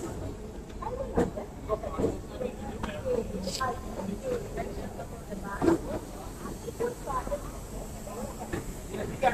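A Hyderabad MMTS local train, number 47173 on the Lingampalli to Umdanagar run, rolls on just after leaving Secunderabad, giving a steady close rumble and hiss with scattered clanks and knocks, while faint voices murmur underneath.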